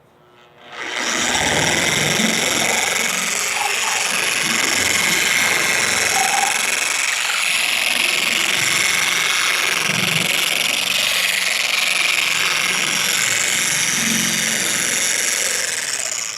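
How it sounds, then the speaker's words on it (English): A car polisher running at speed setting 1 spreads polishing product across the paint. It starts after a brief quiet moment and then holds a steady, loud, continuous whir for the rest of the clip. "on speed setting 1, we're gonna turn on the machine and just spread out the product"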